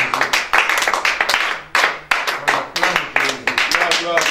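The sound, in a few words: congregation clapping to acclaim Jesus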